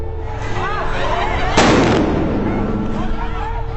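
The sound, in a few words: loud explosion from a thrown explosive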